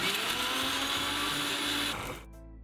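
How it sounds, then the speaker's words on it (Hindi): A mixer grinder grinding coconut chutney ingredients without water whirs loudly and steadily at high speed for about two seconds, then cuts off and winds down into quiet. "अब पहले आप इसको ऐसे ही ग्राइंड कर लेना, बिना पानी डाले बिल्कुल ऐसे ही ग्राइंड कर लेना।"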